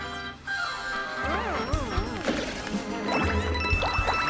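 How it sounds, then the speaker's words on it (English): Wall-smashing sequence in Paper Mario: Color Splash, with loud crashing impacts layered over wavering, swooping musical tones, then further crunching hits toward the end. "he smashed through 2 walls?"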